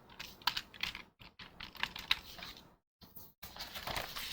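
Quick clacking keystrokes on a computer keyboard while filling in a chart data table, irregular bursts of close taps with short pauses, quiet and alone.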